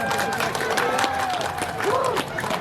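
Applause and crowd noise from an audience at a Maulid Nabi religious gathering in a village, steady and dense throughout, with voices and some cheering mixed in.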